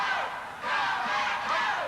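A crowd at a 1990 Texas Championship Wrestling bout roars and shouts, a dense sustained wall of voices swelling in waves, loud and close with no single clear speaker.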